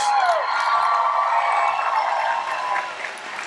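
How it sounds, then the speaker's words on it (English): Audience at an evening college commencement claps steadily in a large hall, a broad, even wash of applause that tapers slightly toward the end. "let's have a round of applause for the best college president on the planet, Dr. Steve Rose."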